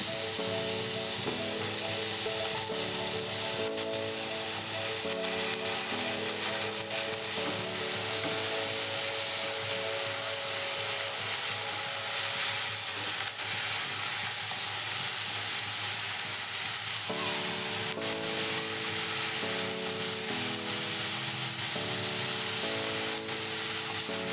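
Bitter gourd, beans and cut flat beans fry in spiced oil in a pan with a steady, even sizzle that runs throughout, while a melodic background tune plays over it.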